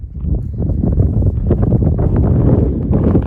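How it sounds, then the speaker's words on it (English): Strong Kansas wind buffeting a microphone, loud, rough gusty rumbling that fills the whole short stretch without pause. "I'm sorry for the wind. I'm trying to cover it up."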